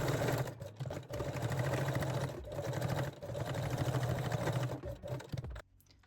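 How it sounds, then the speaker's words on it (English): A sewing machine backstitching a seam on a garter belt, running in steady, fast bursts with brief pauses as it reverses direction, close up, then stopping abruptly. "At this edge I am just locking the seam or backstitching, going straight forward and backstitching again."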